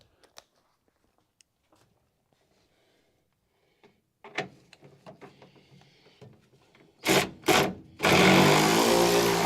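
An electric ratchet works bolts loose on a crew cab Charger: faint metallic clicks and taps, then two sharp close bursts of whirring followed by a loud, steady buzzing run at the end.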